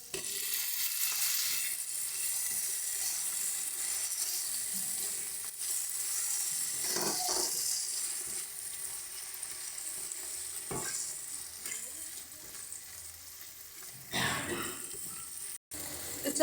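Spice masala sizzles and fries in a pan as it is stirred, a steady close hiss with brief scraping bursts, while chopped tomato goes in for a small-potato dal; a voice speaks briefly over the cooking.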